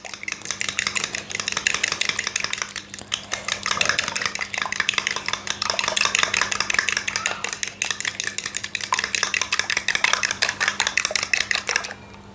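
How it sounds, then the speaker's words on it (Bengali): An egg whisked with a fork in a bowl, making rapid, even metallic clicks and taps that repeat steadily and closely for the whole stretch, with no talking. "আমার যে একটি ডিম রয়েছে সেই ডিমটিকে আমি একটা কাঁটা চামচের সাহায্যে ভালো করে ফেটে নেব।"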